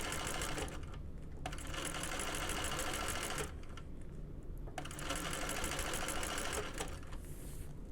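A home sewing machine top stitches the folded fabric straps of a small bucket bag, using little guide bars on either side, in steady runs of rapid needle chatter broken by short pauses, close and fairly quiet.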